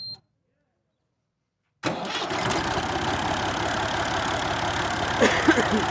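After a short silence, a 1972 Massey Ferguson 135 tractor engine cranks and catches, settling into a steady, low rumbling idle up close, with a few faint clicks on top.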